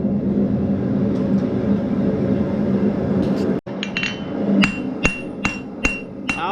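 A hammer strikes hot metal to draw out and thin a meat turner handle, first as a steady dense clatter, then after a short break as separate loud ringing blows at an irregular pace, with no talk.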